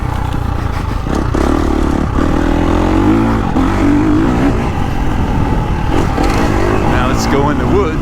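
A 2023 KTM 350 SXF dirt bike engine with a spark arrestor runs loud and close, revving up and down in a continuous rough roar, with a voice speaking over it.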